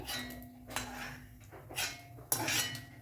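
Fried ingredients for a mint and coriander chutney are moved from a kitchen pan onto another plate, with several close metallic clinks and scrapes of utensil against cookware in quick separate bursts.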